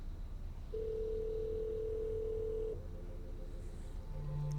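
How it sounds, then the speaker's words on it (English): An incoming call on a SIP softphone sounds as a steady electronic ring tone lasting about two seconds, followed by fainter, lower tones against quiet hiss. "My phone is ringing."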